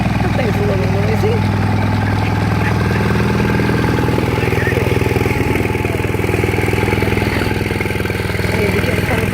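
Engine at a Fairfield County tractor show, near and steady with a low rumbling idle throughout, likely a Farmall tractor, while people talk over it.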